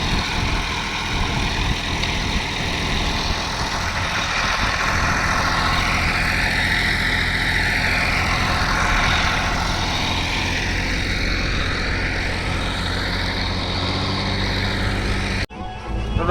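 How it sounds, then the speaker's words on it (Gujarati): A tractor engine runs at a steady, close, loud idle, a continuous low rumble and drone that cuts off abruptly near the end. "દોસ્તો એક ટ્રેક્ટરનો આપણે રાઉન્ડ મારી દીધો છે"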